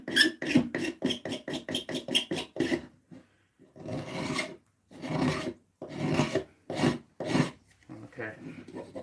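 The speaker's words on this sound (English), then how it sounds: "It's basically just shaving the surface. Well, you can see now that I'm taking shavings like this is going." A blade shaves juniper wood for a flute, giving close, rhythmic rasping strokes: a fast run of short scrapes, then longer, slower pulls separated by brief pauses, with no talking.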